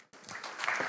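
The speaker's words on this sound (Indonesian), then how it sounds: "Beri tepuk tangan sekali lagi buat Ketua BP Mupel." Applause from an audience at a church Christmas celebration bursts in after a brief silence, dense, steady clapping from many hands that swells slightly within a second.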